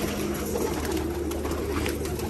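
Pigeons in a loft give soft, low cooing over a continuous close murmur of birds, steady and moderately loud, with no talking.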